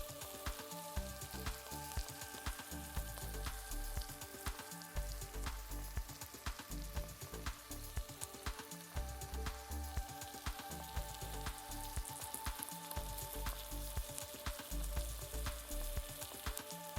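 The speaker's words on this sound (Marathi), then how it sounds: "खूप सारी कोथिंबीर टाकून बटाट्याची भाजी चांगली हलवून घ्यायची" Potato bhaji with plenty of coriander sizzles steadily in a pan while being stirred, with soft scraping thumps at irregular intervals under the constant fry; no speech.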